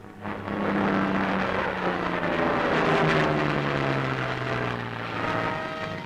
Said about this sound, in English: Contact is made with the low-flying craft.